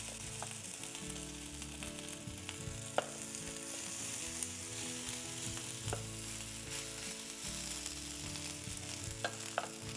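Rice crisps in a hot waffle iron, a continuous quiet sizzle with faint crackles and a few brief clicks and scrapes nearby.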